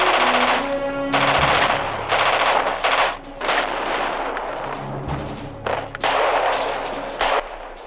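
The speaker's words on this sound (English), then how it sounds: "maintain suppressive fire" Video game gunfire in Radio General, with bursts of machine-gun fire and separate shots coming in uneven clusters, loud and close, with a brief electronic tone near the start.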